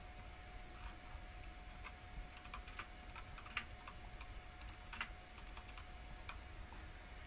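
Steady typing on a computer keyboard, a continuous patter of quiet key clicks with a few louder strokes, heard close and alone over a faint hum.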